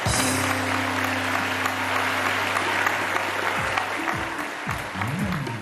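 A studio audience on the Pakistani TV game show Jeeway Pakistan applauds steadily, a dense crowd clapping mixed with sustained musical tones and swooping sound effects underneath.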